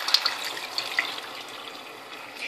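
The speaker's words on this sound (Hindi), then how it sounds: "और एक गिलास में इसमें दाल का पानी डाल रही हूँ।" Lentil water is poured from a glass into a pot of chicken cooking in water for Lahori daal chicken, a steady close splashing pour with a few brief drips and no talking.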